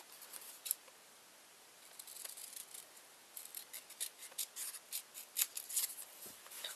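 Scissors snip through paper and cardboard while wreath pieces are cut, a quiet run of crisp cutting strokes that grows busier toward the end, with no talking.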